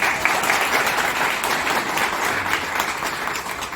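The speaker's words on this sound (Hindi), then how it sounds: "प्लीज तालियां बजाइए" Sustained audience applause honoring a department head at an event for Navodaya Vidyalaya students, dense steady clapping from a crowd at even loudness throughout, without speech.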